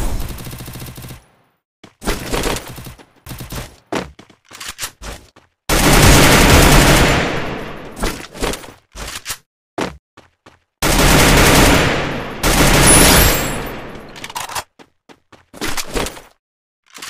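Bursts of gunfire from the mobile battle-royale game Free Fire, with clusters of rapid shots broken by gaps and two long, loud sustained volleys, close and dominant, no talking.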